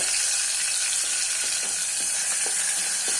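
Chopped tomato sizzles steadily in a pan over a low gas flame, a close, continuous frying hiss with a few soft stirring scrapes and no voices.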